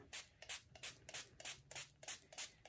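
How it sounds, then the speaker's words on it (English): Spray bottle misting water onto the back of embroidered dog show bath towels, a quick run of about eleven short, sharp hissing spritzes in an uneven rhythm, close and fairly quiet, no talk. "I am spraying this on the back of all of the"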